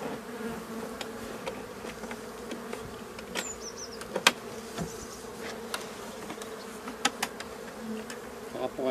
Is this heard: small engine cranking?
no